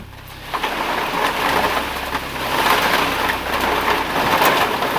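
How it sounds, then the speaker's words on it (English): Steady rain hisses continuously on a surface, with a low rumble underneath and the level swelling slightly now and then, fairly loud and close. "Rain."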